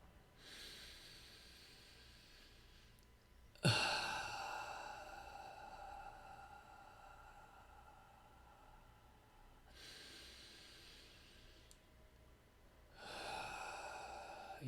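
Slow, soft exhalations during a guided breathing exercise, each a long airy breath out, faint and close, repeating alone with no talk.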